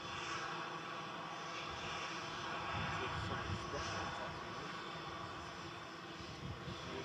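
An aircraft taxis out at Manchester Airport, a faint, steady engine rumble heard from a distance with a slight swell midway.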